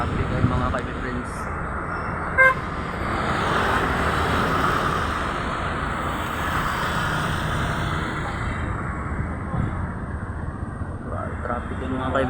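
Heavy road traffic rumbles in a dense, constant wash with a brief horn toot early on, while a voice talks over it.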